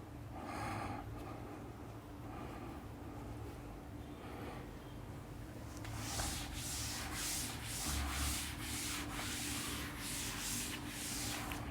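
Someone rubs out writing on a classroom board, with a soft continuous scrubbing that turns into louder, rhythmic back-and-forth strokes in the second half. No one speaks.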